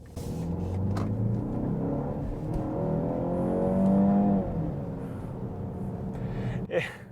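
A 2023 BMW X1 with 240 horsepower and a dual-clutch transmission accelerates hard, its engine note climbing in a rising, sustained drone heard from inside the cabin, easing off near the end.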